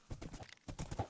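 Horse hooves clip-clop quickly and rhythmically in a Minecraft-style battle royale game, a brief run of faint, evenly spaced hoofbeats heard alone.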